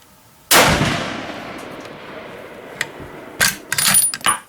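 A Savage 99C lever-action rifle in .284 Winchester fires one loud, sharp shot from a shooting bench outdoors, followed by a long decaying echo and then clattering handling noises and clicks.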